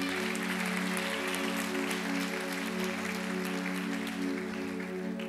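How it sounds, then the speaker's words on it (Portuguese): A church congregation claps loudly over a steady sustained keyboard or organ chord, a dense continuous wash of applause filling the room with no clear speech. "aplauda bem forte o nome do Senhor."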